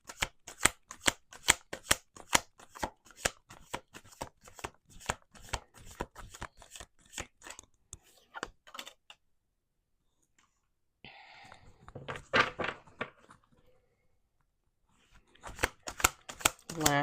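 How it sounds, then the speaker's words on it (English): Tarot cards are shuffled by hand in quick, dense riffling bursts for about nine seconds, then a pause and a brief spell of speech, and the shuffling resumes near the end. "Let's do 2 more shuffles."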